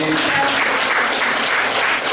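Applause from an audience at a training session, a steady, full wash of many hands clapping that holds evenly for a couple of seconds.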